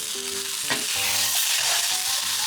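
A thawed frozen egg frying in a pan after being flipped over low heat, giving a soft steady sizzle with a few clinks and scrapes; no talking.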